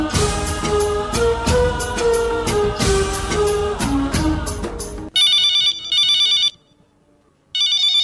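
A telephone rings on a Hindi radio phone-in request programme, the shrill electronic ring coming in bursts with a pause between them, right after music ends.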